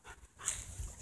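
A dog lets out a brief, faint whimper, a short high whine over quiet background noise.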